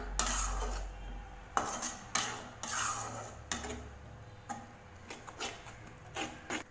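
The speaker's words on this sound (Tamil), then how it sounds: "தேங்காயோட பச்சை வாசம் போகணும் அதனால் இது லேசாக வதக்கி விட்டுக்கலாம்" Grated coconut sautéed in a pan for onion kurma, heard as repeated scraping and clinking of a spatula against metal in irregular strokes over a low background hum, with no talking.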